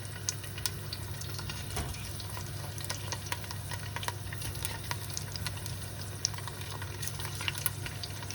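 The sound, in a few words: garlic and prawns frying in hot oil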